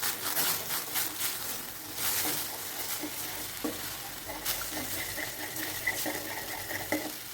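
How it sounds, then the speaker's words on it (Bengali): Egg halwa is stirred slowly in ghee over low heat, a continuous close sizzle and frying hiss with the steady scrape and rasp of a spoon against the pan bottom. "হালকা জালে আমি আস্তে আস্তে করে এটা নাড়তে থাকবো, নিচে লেগে না যায় যেন।"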